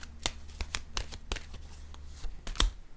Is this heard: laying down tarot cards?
yes